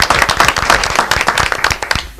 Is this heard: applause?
yes